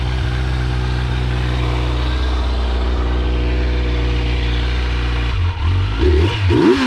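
Stock exhaust on a 2021 Kawasaki Z900 motorcycle, heard as a loud, steady low engine drone held close by. Near the end it breaks into a few short revs that rise and fall, and no one speaks.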